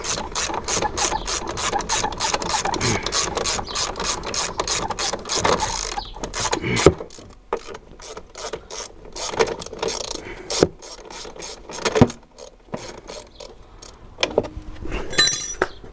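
A ratchet wrench loosens the nut on an Alfa Romeo 166 upper suspension arm, giving close, loud, rapid clicking that runs continuously at first, then breaks into shorter bursts of clicks with brief pauses and metallic knocks.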